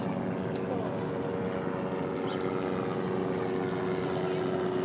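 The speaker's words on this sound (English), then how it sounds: "Oh, there are just helicopters everywhere today. Planes." Helicopters and planes flying overhead beside the Brooklyn Bridge, a steady droning engine hum with a faint tonal whine, moderately distant and continuous throughout with no talking.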